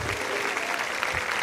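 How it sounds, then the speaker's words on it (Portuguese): Children clapping their hands during a storytelling session, steady dense applause from a group, fairly loud and continuous, with faint voices mixed in. "vocês podem bater palmas para o nosso rei."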